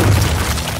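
Deep booming explosion from a Bites the Dust attack in an anime battle video game, a loud, dense low rumble lasting under a second with no speech over it.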